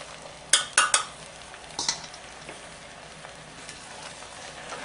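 Beans with onions and garlic are stirred in a pan: a few quick scraping clinks of a utensil against the pan, then a softer stroke, over a low, steady sizzle of frying.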